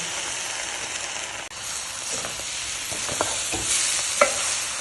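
Mutton curry is poured over sizzling kothu on a hot griddle and stirred, giving a steady close hiss of frying with a few sharp scraping clinks near the end.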